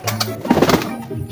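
A racing pigeon gives a short, soft cooing call, close and clear against faint background noise.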